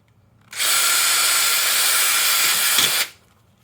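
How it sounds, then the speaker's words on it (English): A power drill whirs loudly for about two and a half seconds, drilling a hole in a jar lid, starting and stopping abruptly, with no talking. "we're just going to drill a hole"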